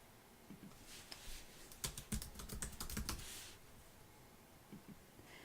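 A burst of quick key clicks on a computer keyboard as a search is typed, close and crisp, then a few scattered taps in a quiet room.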